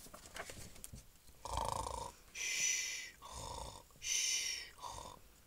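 A voice imitates a tiger snoring during a children's story reading, giving five rhythmic, breathy snore bursts with short pauses between them, close and fairly quiet.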